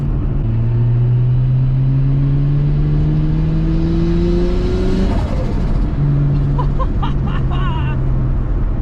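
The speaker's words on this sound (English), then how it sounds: "Turbo sounds so sick." A freshly tuned turbocharged Nissan Skyline R33 engine revs up loud and near, pitch climbing steadily, then drops off with a whoosh and flutter before pulling again.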